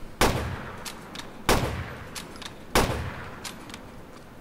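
Three loud, evenly spaced sniper rifle shots from a modded Grand Theft Auto IV, each a sharp crack that decays into a short echoing tail, about 1.3 seconds apart.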